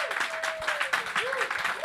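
A live audience at a small music venue claps for the band, with a scattered, moderate burst of applause close by, partly overlapped by voices.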